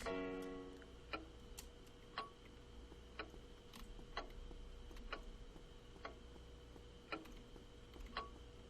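Steady clock ticking from Fausts Alptraum, a regular tick roughly once per second over a low ambient hum, each tick crisp and moderately loud, with no voices.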